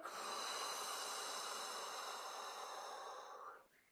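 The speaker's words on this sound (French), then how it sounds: "prenez une dernière grande inspiration. Soufflez." A single long, deep exhale plays close and quiet as a soft, breathy hiss lasting several seconds before trailing off.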